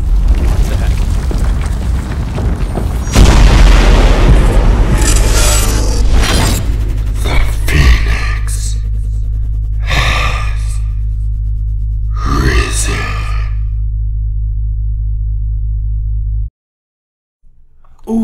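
A rough, guttural creature voice made in a person's throat, drenched in reverb and echo, rumbles through a series of swelling growls and bursts over about sixteen seconds before cutting to silence.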